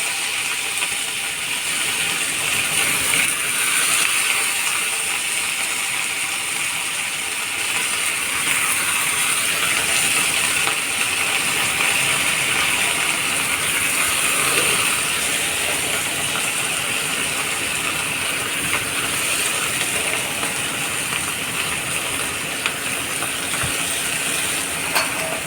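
Chopped radish greens and carrot frying in hot mustard oil give a loud, dense crackling sizzle that holds steady for the whole stretch, with no voices over it.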